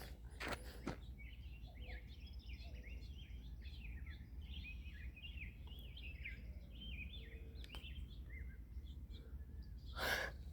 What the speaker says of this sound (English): There's a hoo in there. I believe that's dove